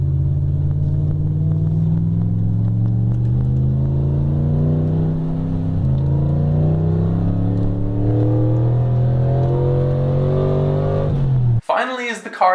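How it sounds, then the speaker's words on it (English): A car with a V8 taken from a Ferrari 308 and active aero revs up through rising gear pulls, its loud, smooth engine note climbing, dropping briefly at a shift, then climbing again before cutting off sharply near the end. "a V8 ripped straight out of a Ferrari 308"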